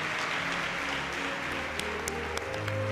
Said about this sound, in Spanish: El aplauso para Hilda Bernard